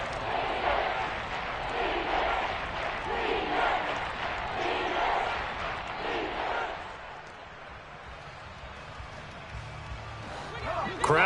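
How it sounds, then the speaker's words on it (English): A Madden football stadium crowd roars in rising and falling waves, a broad cheering swell that fades partway through, with a commentator's voice running over it. "Crowd getting in it a bit already."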